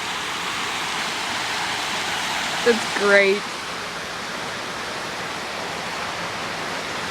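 Water gushing steadily from an exploded hot water tank, a continuous broadband rush throughout, with brief voices speaking over it partway through.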